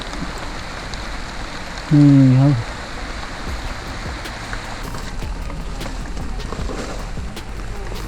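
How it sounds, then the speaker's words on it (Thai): Heavy rain falls outdoors on a mountain walk as a constant, dense hiss of drops. Someone speaks briefly over the downpour near the start. "นี่ตอนนี้ฝนตกครับผม"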